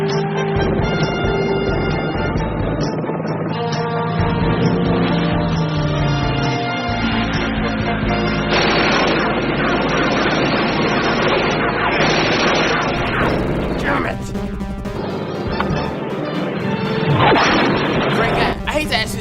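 Rapid 20mm cannon fire from an attacking aircraft rattles loudly through a dense, continuous mix of engine roar and music, with voices talking over it throughout.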